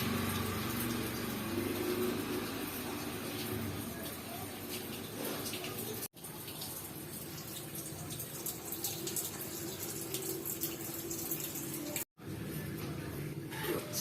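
Tap water flows steadily while rinsing out a car radiator, a continuous close gushing wash that runs with only two brief breaks.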